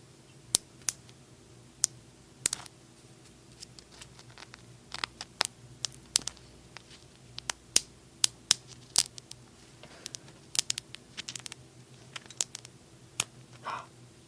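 Beetle being pinned right up against the mic gives sharp, crisp cracks and clicks, scattered irregularly in clusters over a quiet background, with several louder snaps standing out.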